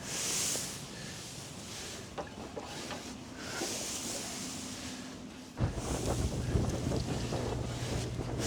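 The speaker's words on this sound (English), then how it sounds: "Half my hay's blown away. That's how windy it is." Strong wind buffets the microphone in heavy, rumbling gusts, roaring continuously and growing rougher toward the end.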